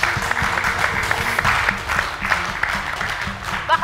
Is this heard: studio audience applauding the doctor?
yes